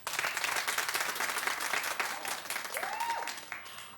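Steady studio audience applause at a daytime TV talk show, a dense wash of clapping that holds evenly for several seconds, with faint background sounds near the end.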